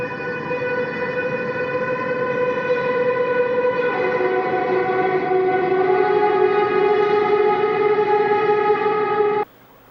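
Electric guitar horror-score tones with reverb and compression drone as one long, sustained, eerie chord that slowly shifts pitch and swells, then cuts off sharply.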